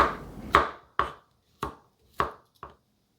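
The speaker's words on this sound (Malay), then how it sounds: "Kemudian 7 ulas bawang putih. Potong kasar-kasar je gitu sebab nanti kita nak kisar." A knife chops garlic cloves coarsely on a board with five distinct, sharp thuds at an uneven, unhurried pace, close and clear in an otherwise quiet room.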